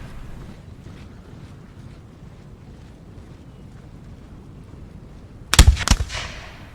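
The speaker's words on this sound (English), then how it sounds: "Again, the silent guns firing off." Artillery guns fire in a Napoleon Total War battle: a sudden, loud, close cluster of heavy booms and cracks bursts out after a stretch of low, rumbling battlefield ambience, then decays quickly.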